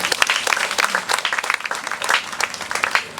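Dense, loud applause from an audience at a poultry scheme gathering in Enugu State, steady and sustained throughout with no talk over it.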